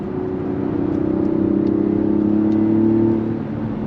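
A 2024 Mazda CX-90 Turbo SUV accelerates through paddle-shifted gears, its engine holding a steady mid-pitched drone that swells and rises gradually across the pull, heard alone with no talk.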